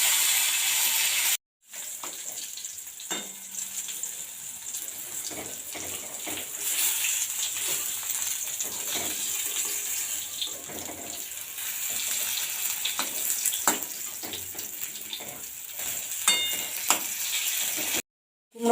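Ash gourd leaves fry in hot oil in a wok, giving a continuous bright sizzle with soft crackles and occasional stirring clatter. A brief silent gap comes near the start.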